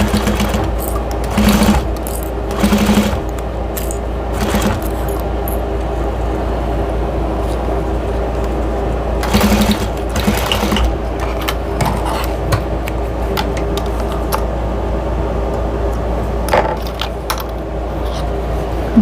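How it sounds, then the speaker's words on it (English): Sewing machine running steadily while top stitching across a fabric drying mat, a continuous close mechanical whir with a few brief pauses and stitch-speed changes. "I'm gonna top stitch across the top."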